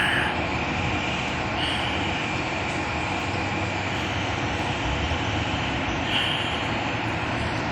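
A Long Island Rail Road M9 electric train passes through the Bellmore station area with a steady, loud rumble and roar that stays fairly constant, plus a few faint higher squeals of wheels or brakes.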